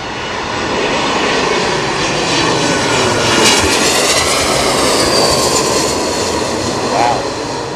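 Aircraft engines roar steadily at London Heathrow Airport during a storm, a loud, close, continuous jet rumble that swells and fades slightly, with faint talk nearby.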